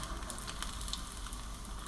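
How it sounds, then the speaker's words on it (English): Gluten-free pakoras frying in hot oil in a small wok at home: a faint, steady sizzling hiss dotted with tiny crackles. Nobody speaks. "at home I've got this little wok that I use for frying"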